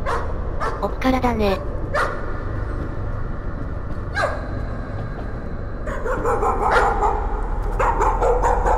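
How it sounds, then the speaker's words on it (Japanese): A dog barking in the Layers of Fear PS4 horror game, several sharp barks and yips scattered over a low rumbling ambience, with a voice speaking between them. "犬の鳴き声。"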